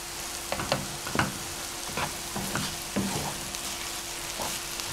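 Garlic and vegetables fry in a pan while being stirred, giving a steady sizzle broken by repeated scraping and clattering strokes of a utensil, with no talk.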